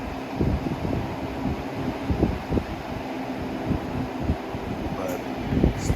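A Lasko Pro Power box fan, model B20548, blowing air: a soft, steady rushing whoosh with faint rattly bumps, close up, and a voice talking partway through.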